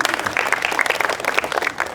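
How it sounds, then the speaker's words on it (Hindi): Steady applause from a seminar audience at a financial-mindset talk, dense clapping filling the whole short stretch with no voices over it. "अच्छी बात लगती है तो तालियां भी बजा सकते हैं।"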